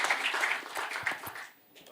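Brief applause from the audience at an MFN 8 mixed martial arts press conference, a short patter of clapping that fades out quickly, fairly faint.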